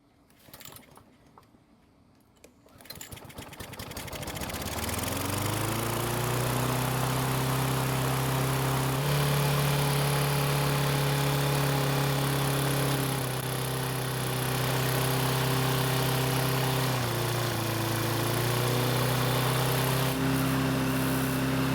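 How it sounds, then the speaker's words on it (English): A Husqvarna lawn mower's small engine sputters, catches and revs up to a loud, steady high-speed whine that holds, dipping briefly once before climbing back. "the engine speed was a lot higher than expected"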